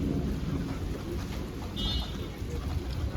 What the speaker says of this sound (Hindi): वर्षा है वर्षा सहित पवन भी है